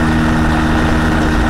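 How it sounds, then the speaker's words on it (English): A Challenger 2 ultralight airplane engine runs steadily, a loud, close, continuous drone with a constant low hum and no pauses throughout. "over the engine noise, but it is running"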